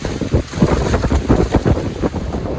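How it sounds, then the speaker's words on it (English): Strong wind batters a tent at night on a Pacific Crest Trail camp below Mount Adams, a loud, continuous roaring buffet with rapid flapping gusts of fabric, close to the microphone and with no voices. "I'm gonna have to try and get up in this wind and try and repair my tent."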